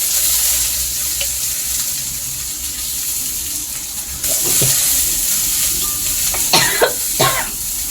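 Eggplant and drumstick vegetables sizzling and frying in a pan with occasional stirring clatter and a few sharp knocks, steady crackle throughout.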